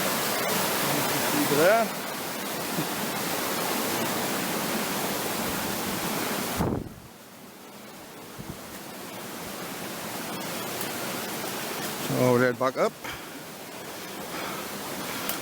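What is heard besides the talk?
high, fast-flowing river rushing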